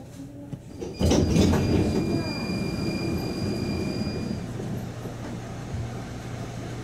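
71-931M Vityaz-M tram rolling along a street route, a low rumbling drone with a whining tone and a brief clunk near the start, heard steadily from inside the car.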